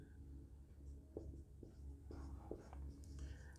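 Faint scratchy strokes of writing on a board during a chemistry lecture on ionic equilibrium, short irregular marks in a quiet room with soft background noise.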